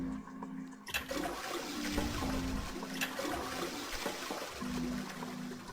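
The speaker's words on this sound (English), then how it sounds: "We're just having a flush-a-thon, let me tell you. I'm wasting tons of water doing it." A toilet in the video game Zero Escape flushes loudly, a rushing gush of water that fills the clip after a short quiet start and keeps swirling and draining until the end.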